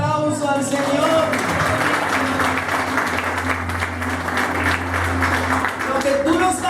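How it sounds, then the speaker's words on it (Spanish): Church congregation applauding during a communion service, continuous crowd clapping with voices cheering and speaking over it, backed by sustained musical tones from an instrument. "Dale un aplauso al Señor."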